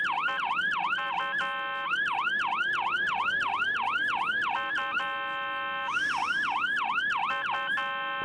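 Ambulance siren in a snowy Slovenian traffic jam, wailing in rapid repeated yelp cycles, loud and near, with short breaks and a brief horn-like burst midway.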